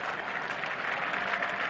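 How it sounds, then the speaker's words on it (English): Cricket spectators at a 1976 England versus West Indies Test match greet new bowler Geoffrey Miller with steady, even applause, a dense wash of clapping throughout. "the crowd aware of it now, giving this fine young prospect a good reception"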